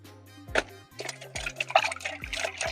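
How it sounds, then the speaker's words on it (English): Pieces of yam are rinsed and lifted out of water while making yam flour, giving close, irregular splashes and sloshes with a steady low hum underneath. "as you are removing them from inside the water, you try to rinse them"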